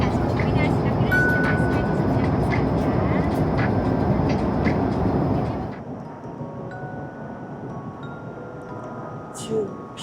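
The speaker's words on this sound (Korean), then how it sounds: "우리 비행기는 이제 이륙하겠습니다" Airplane cabin noise during takeoff, a loud steady engine roar that drops off abruptly partway through to a quieter hum, with a voice speaking over it.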